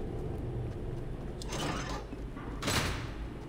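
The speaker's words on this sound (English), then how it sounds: "I'm hearing a door close as we loop" A door in a Fortnite horror map swings shut with a broad mechanical slide and two heavier thuds, the second louder, over a steady low game ambience.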